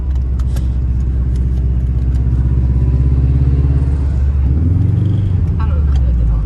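The engine of a 300-horsepower bug-eye Subaru WRX rumbles loudly and steadily from inside the car while it is driven, shifting through the gears with a manual clutch. The pitch dips and changes near the end, and people talk over it.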